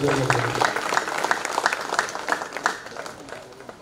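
An audience at a school golden jubilee alumni celebration claps in a steady round of applause, loud at first then tapering off, with a voice speaking over it.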